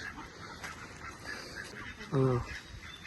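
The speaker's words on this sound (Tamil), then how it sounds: "இது வாத்து பக்கத்தில் இருக்குது" A single short, nasal honking quack from a duck sounds nearby, one brief burst against a quiet outdoor background with faint low murmurs.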